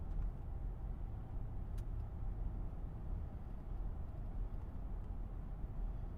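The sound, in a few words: Mercedes GL 550 twin turbo accelerating at part throttle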